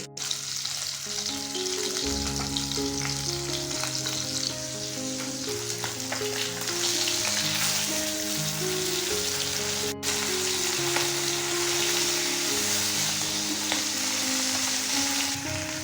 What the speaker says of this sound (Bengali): মাছগুলোকে লাল লাল করে উল্টে পাল্টে ভেজে নেব